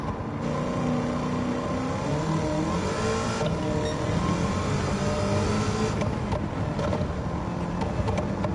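A race car in Gran Turismo 7 fitted with a swapped DeLorean engine accelerates hard, its steady whining roar loud and close with brief shifts in tone, running alone without talk.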